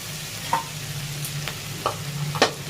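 Spice paste is poured into a pan with shrimp and pointed gourd and fried, giving a low steady sizzle broken by a few sharp scraping stirs, close and fairly quiet, with no voice.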